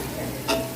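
Biryani ingredients with lemon juice, garlic and salt being sautéed in a pan, a steady low sizzle with one short louder scrape of stirring in the middle of a brief stretch.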